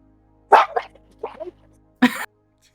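During a tabletop role-playing game, a player's voice imitates a dog with a few short yappy barks, a quick pair, then a softer couple, then one louder bark after a pause, all in a quiet room.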